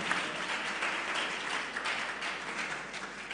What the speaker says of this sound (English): Can you clap for a prof, please?